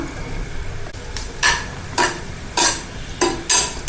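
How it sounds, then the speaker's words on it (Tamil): Raisins and cashews sizzle in hot ghee while a spoon stirs, scraping the pan in a steady rhythm of about five strokes. "கிஸ்மிஸ் முந்திரி நல்லா வறுத்தாச்சு"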